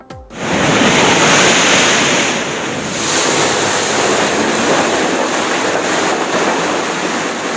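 Sea waves surge and crash onto the Thiruvananthapuram and Kollam coast during severe sea incursion, a loud, continuous roar of surf mixed with heavy wind buffeting the microphone, with no voices.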